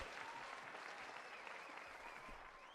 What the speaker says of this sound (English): I think the applause is getting louder